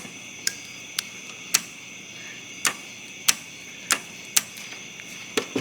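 Sharp, faint clicks at an irregular steady pace from a vacuum-powered part under the hood of a vehicle with the engine off, alone over quiet background hiss.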